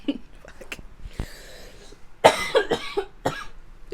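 A woman coughs several times in quick bursts, loud and close, with harsh throaty hacks and short pauses between them.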